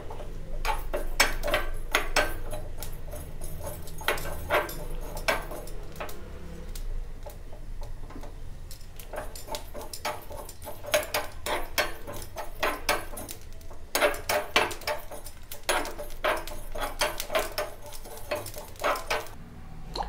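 Roasted coriander seeds, fenugreek, cumin and garlic pounded coarsely in a mortar, with steady rhythmic clacking strokes repeating in quick runs and brief pauses, near and clear, no talking.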